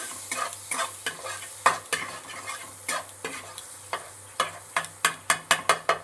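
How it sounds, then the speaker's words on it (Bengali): A spoonful of butter melts in a pan while being stirred, soft sizzling under rhythmic scraping strokes of a spoon that quicken into a rapid run of close scrapes near the end. "এবার আমি বাটারটাকে একটুখানি গলিয়ে নিচ্ছি নেড়ে চেড়ে।"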